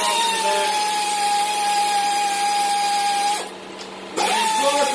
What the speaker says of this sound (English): you hear the compressor going off in the back